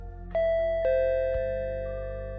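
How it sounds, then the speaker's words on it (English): A door chime rings in two clear tones, a ding then a dong, each note sustaining and slowly fading, loud and close with no talk over it. "That's when the door chime rang."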